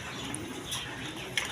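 Pigeons coo softly in a pen holding a pair of blue shorting pigeons, a low murmuring call close by over faint background noise, with no one speaking.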